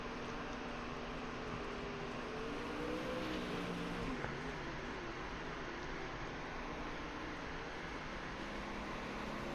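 A pro late model race car roars through a qualifying lap on an oval, its engine a constant loud drone that barely changes, with a faint rising and falling pitch sweep partway through.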